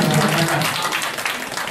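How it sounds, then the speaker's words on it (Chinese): A community-college audience gives brief, warm applause to welcome a harmonica player, a dense patter of clapping with a few voices mixed in. "那我们是不是用最热烈的掌声来欢迎？"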